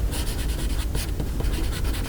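A Dixon Oriole pencil scratches across paper in quick back-and-forth strokes, a close, dry graphite scraping with a rhythmic pulse.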